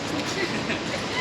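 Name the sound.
train standing at station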